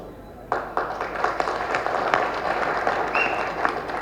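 A seated audience at a Telugu film event claps in a burst that starts suddenly and holds steady for a few seconds, fairly close, with no talking over it.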